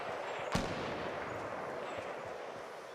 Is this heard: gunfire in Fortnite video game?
yes